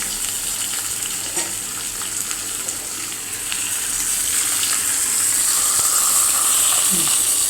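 Loud, continuous sizzling of tempering spices hitting hot oil, a dense hiss that swells and grows steadier toward the end, with no one speaking.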